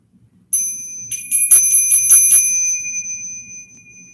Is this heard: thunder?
no